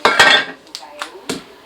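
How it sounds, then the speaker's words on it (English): A knife chops an onion on a board in a few sharp, separate knocks, loud and close, with short pauses between strokes. "Okay, I'm going to chop that up."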